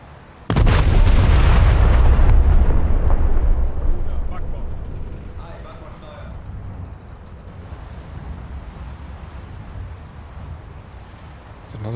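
A Des Moines battleship in a naval video game fires its heavy guns: one huge, deep, booming salvo that rolls on for several seconds, then a long low rumble with faint game effects and ambient noise.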